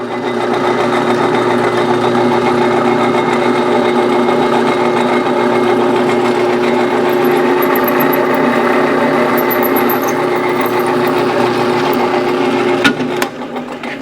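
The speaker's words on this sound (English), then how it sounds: "All right, we're gonna drill a pilot hole through here." A steady high-pitched motor whine runs continuously for many seconds, loud and close, briefly dipping near the end.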